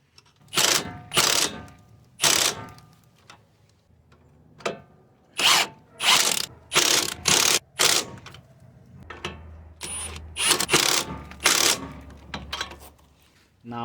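A 15mm wrench works a nut on the suspension of a Dodge Durango 4.7 AWD, giving a series of close, sharp ratcheting bursts in irregular clusters with short pauses between them.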